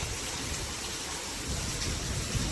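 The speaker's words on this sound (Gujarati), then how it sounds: "સારી પેટનો વરસાદ." Heavy rain pours at night during a power cut, a dense, even wash of noise with no pauses and no voices.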